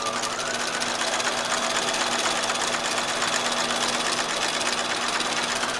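A sewing machine runs steadily through a straight seam with the thread guided along the edge of the presser foot, a loud continuous close-up mechanical whir with rapid stitching rhythm and no talking.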